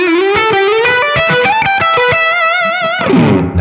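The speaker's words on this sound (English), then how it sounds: "if you engage the boost, we get volume" Electric guitar run through a Laney Lionheart Loudpedal with its boost switched on, playing a loud, driven melodic line of sustained and picked notes that ends in a thick distorted chord ringing out near the close.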